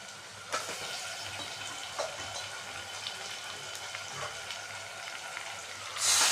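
Chicken pieces frying in a pan with turmeric, ginger-garlic paste and oil, a soft continuous sizzle with scattered crackles and a brief louder burst at the end.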